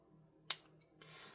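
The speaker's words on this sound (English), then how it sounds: "we're going to take some scissors here, and we're going to trim the edges of these stems off." A single sharp snip of scissors trimming stems off an epoxy piece, close and crisp, followed by a soft rustle in a quiet room.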